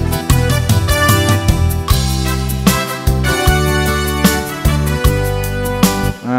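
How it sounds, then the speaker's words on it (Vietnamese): A Kurtzman SV800 keyboard organ plays its brass voice, with punchy layered brass chords and a driving backing rhythm, loud and continuous for several seconds before cutting off at the end, no talking. "Tiếng brass rất là hay ha"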